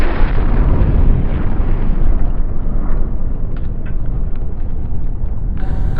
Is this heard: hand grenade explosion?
yes